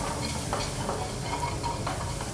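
Octopus and prawns sautéing with fresh herbs in a pan, a steady close sizzle and hiss with faint scraping stir sounds throughout.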